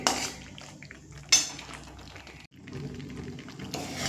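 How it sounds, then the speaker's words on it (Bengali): Masala is stirred and fried in a kadai for an egg and soya chunk curry, a low continuous scraping with a sharper utensil clink near the start and a brief pause midway. "এইভাবে নেড়ে নেড়ে মশলাটা খুব সুন্দর করে কষে নিতে হবে"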